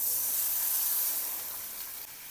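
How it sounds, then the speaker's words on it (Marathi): Water poured into a hot pan of cluster beans in green masala, giving a loud, broad steaming hiss that slowly fades over a couple of seconds, heard up close with no speech. "शेंगा शिजण्यासाठी थोडं पाणी टाकायचं"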